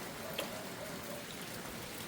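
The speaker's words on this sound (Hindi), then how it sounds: "अभी भी बहुत तेज़ बारिश हो रही है" Steady rain falling continuously outdoors in a hill village during a heavy downpour, a soft even patter with scattered drops, quiet and distant, no voices.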